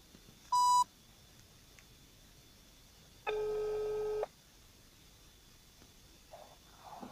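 Ringback tone while placing a phone call: a short beep, then one long, steady tone about a second long, clear and isolated against quiet background hiss.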